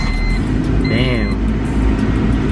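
A Honda Civic engine runs at a steady idle with a constant low rumble, while a person speaks briefly over it.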